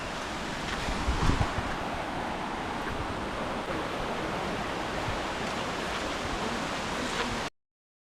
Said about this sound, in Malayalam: നമ്മളങ്ങനെ ഈ ഒരു സുന്ദരമായ വെള്ളച്ചാട്ടത്തിൻ്റെ അടുത്തെത്തിയിരിക്കുന്നു